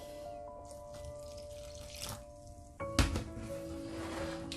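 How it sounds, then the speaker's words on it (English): Water trickles and splashes quietly into a bowl of canned tuna fritter batter, with a short clatter and louder splash near the end. "Now we're gonna go ahead and add some water to this."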